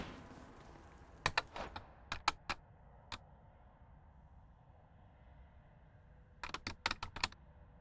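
Two bursts of fast keystrokes on a computer keyboard, one early and one near the end, with a quiet gap between them. The clicks are close and crisp against a low background hum during play of the game Hades.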